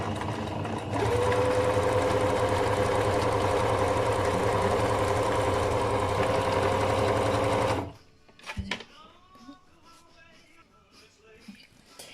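Sewing machine stitching around the edge of a portable baby changing mat, a loud continuous close whirring run that stops abruptly near the end, followed by quieter handling clicks and rustles.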